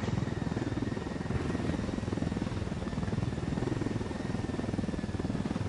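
Helicopter touching down in Ghost Recon Wildlands, a steady loud rotor thump and engine whine holding throughout with no pauses.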